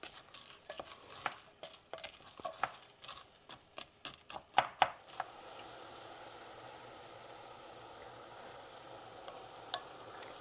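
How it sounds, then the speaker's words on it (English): Frozen corn, onion, butter and salt cook in a pan, with a series of sharp stirring knocks and scrapes against the pan giving way to a soft, steady sizzle. "We're just going to cook it until the onion is transparent and tender and the corn doesn't have ice crystals on it anymore."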